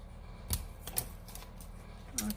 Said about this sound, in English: I'm going to grab my scissors, my paper snips, and I'm going to trim this to fit